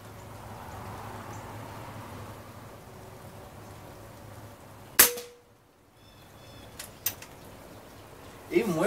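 A tuned Kral Arms Puncher Mega .25 air rifle fires a pellet outdoors, a single sharp crack followed by a brief ring and a few fainter clicks and knocks afterward.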